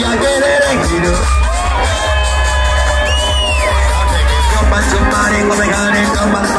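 A large crowd at a Tanzanian music event shouts, whoops and cheers continuously and loudly, a dense steady roar with thumping bass music underneath and no pauses.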